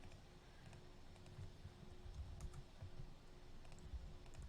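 Soft, rapid keystrokes on a computer keyboard patter irregularly and faintly, recorded close by in a quiet room with no talk.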